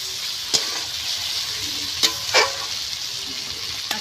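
Taro curry with fish being stir-fried in a pan: a steady, close sizzle runs throughout, broken by a few sharp scraping or clinking stirs of the spatula.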